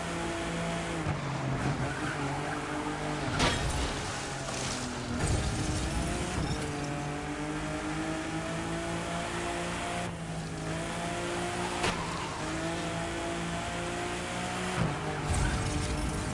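A hypercar in a racing video game, its engine droning and shifting pitch as it corners, with bursts of tire squeal and skidding under a constant, fairly loud motor tone.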